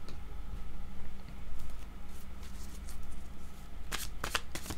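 Tarot cards are shuffled by hand nearby, a soft continuous riffling and flapping that ends in a few sharper bursts of cards slapping together, with no voices.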